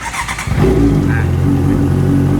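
A 2014 Honda CBR650F motorcycle engine cranks and catches, then settles into a steady, loud idle rumble close by.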